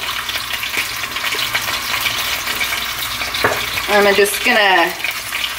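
A small fork whisks seasoned eggs with salt and pepper in a bowl, making a steady, close, brisk swishing rattle throughout, with a voice speaking briefly near the end.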